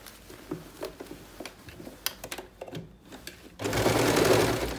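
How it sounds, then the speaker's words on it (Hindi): Stitching on a trouser belt, a sewing machine runs in a steady, fast whirring burst near the end, after a stretch of quiet handling clicks and taps. "अब उसी पर ही सिलाई लगानी है।"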